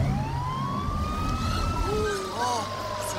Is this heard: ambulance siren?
yes